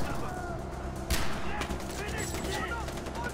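Gunfire in the video game Far Cry 4, a rapid stream of shots blended into a busy, noisy battle mix, with one sharper crack standing out near the middle.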